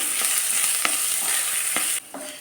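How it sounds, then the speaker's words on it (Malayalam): Chopped green chili, ginger and onion frying in a pan, a loud steady sizzle broken by brisk spatula scrapes, then suddenly dropping away near the end. "ഇനി ഇതിലേക്ക് അരിഞ്ഞു വെച്ച പച്ചമുളകും ഇഞ്ചിയും സവാളയും ചേർത്ത് കൊടുക്കാം. ഇത് നന്നായിട്ടൊന്ന് ഇളക്കി കൊടുക്കാം."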